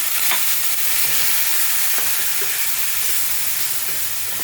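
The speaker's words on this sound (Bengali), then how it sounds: "ভালো করে মশলাটা কষিয়ে নেব" Spiced masala frying in oil in a pan, a loud dense sizzle that never lets up, with faint stirring knocks now and then, close up and without voices.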